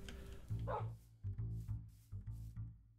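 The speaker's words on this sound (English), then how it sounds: "the dogs even made their way all the way over fucking here" Dogs bark in a Minecraft modpack world, a few close, fairly faint barks in an uneven rhythm, with no talk over them.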